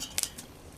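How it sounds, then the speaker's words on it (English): A knife scraping flaking rust off a cast iron roasting pot, two quick close metallic scrapes followed by a fainter third, short and quiet. "this is literally just me scraping it with my knife"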